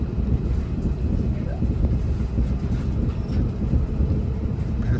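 A VIA Rail passenger train hauled by a Siemens Charger locomotive, running from Montreal to Ottawa, gives a steady, close rumble from inside the car, with faint rail clatter and wind noise throughout.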